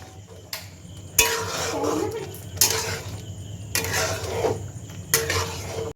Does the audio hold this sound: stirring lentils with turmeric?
yes